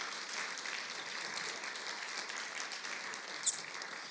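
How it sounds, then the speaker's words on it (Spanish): A church congregation applauds during a Spanish-language sermon, a steady wash of many hands clapping in a reverberant room, with one brief sharp high accent near the end. "dale un aplauso al Señor"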